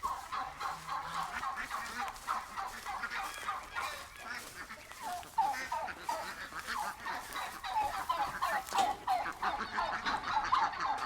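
Many ducks and chickens call over one another in a steady, busy chorus of honks and squawks on a farm, fairly close, with no talking.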